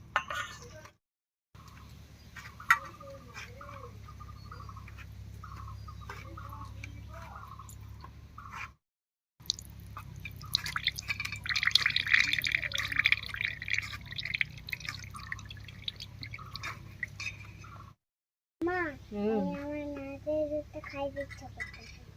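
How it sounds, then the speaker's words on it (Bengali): Grated coconut is squeezed by hand for its milk, giving repeated wet drips and trickles into a bowl with occasional light clinks, broken by brief silent pauses. "নারকেলটা করে নিলাম এটা চিপে চিপে দুধ বার করবো"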